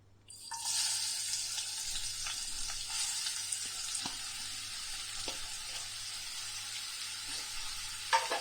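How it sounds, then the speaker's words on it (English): Sliced onions drop into three tablespoons of hot coconut oil and start a steady, bright sizzle that holds for several seconds, with a few light clicks and stirs over it, and no voices. "To this, I'm going to add in sliced onions."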